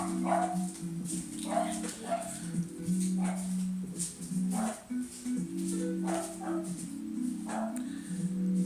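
A dog barks and whimpers repeatedly in a steady pattern of short yips and whines, close and moderately loud over a constant low hum.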